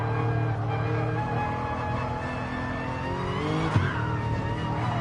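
A race car's engine drones steadily in a Gran Turismo Sport daily race at Tokyo, with a short tire squeal under braking into a corner.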